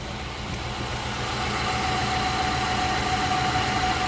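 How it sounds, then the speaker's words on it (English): A car engine with a plugged exhaust on the right side idles steadily, a continuous close mid-pitched drone with a faint rhythmic pulse and a thin steady whine running through it, with no talk. "that right there is a plugged exhaust"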